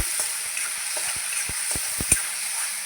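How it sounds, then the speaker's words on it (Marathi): Moong dal and garlic fry in oil, giving a steady close sizzle and hiss broken by irregular soft scraping taps from stirring. "तेलामध्ये अशी फ्राय करून घेणार आहे"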